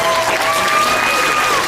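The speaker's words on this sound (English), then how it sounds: "Those of you in the crowd, give all of these 8-year-olds a big round of applause." Steady applause from a crowd at a youth swine show, honoring 8-year-old pig showers after the top-ten placing at night; continuous dense clapping fills the whole stretch without pause.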